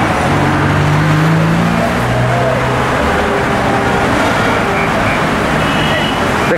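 Dense, loud traffic roar on Javier Prado avenue in Lima as cars head toward Santiago de Surco and La Molina, with engine hum and passing vehicles blending into a constant wash.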